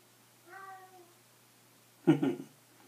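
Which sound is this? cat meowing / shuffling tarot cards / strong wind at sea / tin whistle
cat meowing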